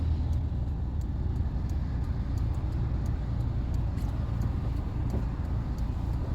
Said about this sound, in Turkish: BMW E30 geliyor yan yan